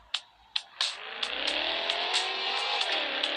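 A car accelerates hard in the mobile game Madout2 with a rising, whining engine note that climbs and holds. Sharp clicks and short bursts come at the start, and several brief ticks punctuate the steady revving roar.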